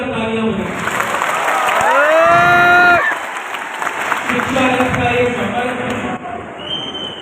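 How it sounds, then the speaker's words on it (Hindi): An audience at an Udaipur education seminar claps together in sustained, dense applause, heard loudly and close beneath a swelling, echoing voice over a PA system. "एक बार उदयपुर के लिए और अपने आप के लिए जोरदार तालियां हों।"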